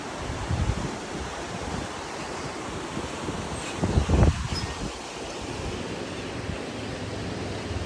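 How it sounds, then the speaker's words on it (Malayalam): Water rushes through raised dam shutters at Ponnani in a constant broad roar, with wind buffeting the microphone and a louder gust in the middle. "ഷട്ടർ പൊക്കി വെച്ചിട്ടുണ്ട്"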